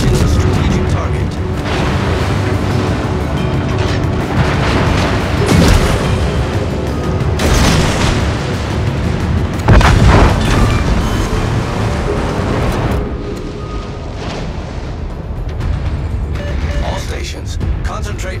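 Naval gunfire in World of Warships: a dense, continuous battle mix with repeated heavy booms and blasts, loudest around the middle, with ship voice announcements over it.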